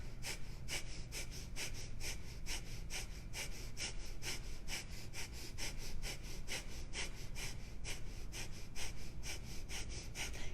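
Fire breath in a yoga session, rapid pumping exhalations through the nose in a steady fast rhythm, each sharp huff close and breathy, continuing for several seconds with no talking.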